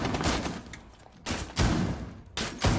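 Gunfire in Rainbow Six Siege, loud broadband bursts of shots in three clusters, heavy and close, with no talking.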